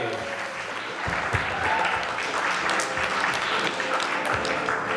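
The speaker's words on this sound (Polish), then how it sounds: "Have a round of applause for these ladies." Audience at the Miss Polonia USA 2016 pageant clapping for the contestants, sustained dense applause swelling after the first second and holding steady, with some voices mixed in.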